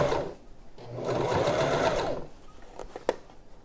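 A sewing machine stitches layers of fabric for a face mask in a single short burst of whirring, about a second long, followed by a few small mechanical clicks, close and moderately loud with no talking.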